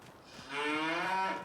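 A single cow moos in a barn, a loud, drawn-out tonal low that swells after a brief quiet lead-in and holds for nearly a second, with faint rustling around it.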